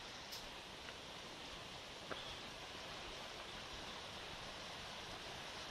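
A nearby river rushes past a small forest along a hiking trail, heard as a faint, steady broadband hiss of flowing water with no voices over it.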